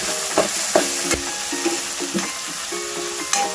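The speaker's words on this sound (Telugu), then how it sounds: "టమాటాలు కూడా వేసి వేయించుకుందాం." Onions and tomatoes frying in a pan for a rajma dish, a steady close sizzle with repeated scraping stirs of a spoon against the pan, no voices.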